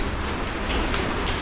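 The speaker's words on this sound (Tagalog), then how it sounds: "Ulan pa rin." Steady rain from Typhoon Enteng pours down in a dense, continuous hiss of drops on surfaces, loud and even throughout with no voices.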